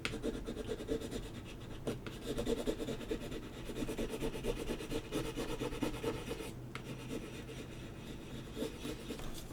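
Firm rubbing in small circles on a wood slice ornament to transfer an image, a continuous close scratchy scrubbing with rhythmic swells and two brief pauses, no talking.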